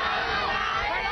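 A large crowd of hundreds of passionate supporters of China's Olympics and government rallies on a Bangkok street, a dense, continuous roar of shouting and cheering voices throughout.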